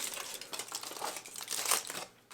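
A foil-wrapped burger is unwrapped up close with quick crinkling and crumpling of the foil over about two seconds, fading at the end.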